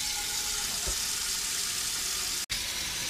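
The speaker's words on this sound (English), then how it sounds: "let's fill it up with water first and get the water boiling" Tap water runs steadily into a cooking pot for borscht (Ukrainian soup), a continuous close rushing splash with no voices, cut by a brief dropout near the end.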